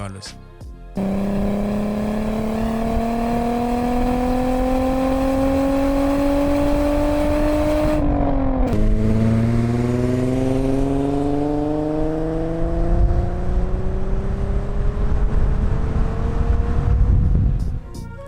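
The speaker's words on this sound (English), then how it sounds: "The VR6 engine had one of the most popular engine notes of the 90s" A Volkswagen VR6 engine revs loudly and climbs in pitch through a gear, drops briefly, then pulls up again with a smooth, raspy note.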